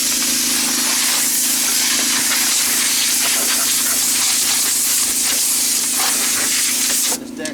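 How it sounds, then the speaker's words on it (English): A steady, loud hissing spray, likely from a pressure washer, cleans off the deck of a Husqvarna Z254 riding mower with a constant tonal whine underneath, cutting off abruptly near the end. "I'm going to clean this deck off."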